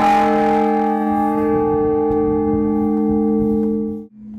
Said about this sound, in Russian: вот этот колокол «Благовест» 1250 килограмм